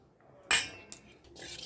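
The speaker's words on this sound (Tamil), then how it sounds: "நல்லா கரண்டியாலேயே நல்லா அப்படியே மாதிரியே இருக்குது, நல்லா டைல்யூட் பண்ணிக்கோங்க." A ladle stirs curd for spiced buttermilk in a bowl, giving a few separate scraping clinks of metal against the vessel at close range.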